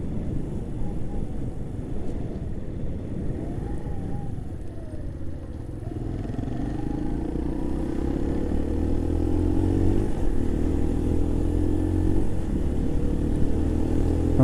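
A Keeway RKV 125 motorcycle engine drones steadily while riding, its pitch rising as it is held at high revs without easing off the throttle, loud and continuous under wind rumble.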